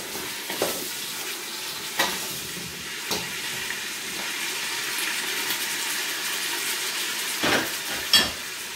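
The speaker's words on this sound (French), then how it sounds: "Je mélange bien." Vegetables with fresh tomato for couscous stirred in a sizzling pan, a steady frying hiss with scraping spoon strokes and a few louder clanks, close and continuous with no talking.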